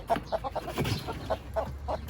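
Several chickens cluck in short, agitated bursts at an irregular rhythm, fairly close, with some rustling in between.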